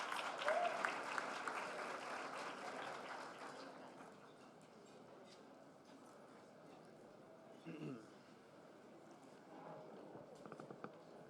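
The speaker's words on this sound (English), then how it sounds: "Let's give him a round of applause." Audience applause at an evening corporate-honoree celebration gala in Chicago, fairly loud at first, then thinning and fading into room murmur after a few seconds.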